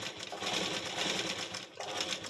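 A sewing machine runs steadily while stitching together two pieces of blouse piping, a continuous close whirring hum with a brief dip near the end.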